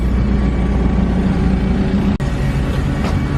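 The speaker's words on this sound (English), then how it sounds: "I just want to hear the sound of the car." A Toyota JZX110 Mark II at a Queensland Raceway sprint gives off a heavy, low engine drone that stays steady and close, briefly dropping out for a moment before carrying on.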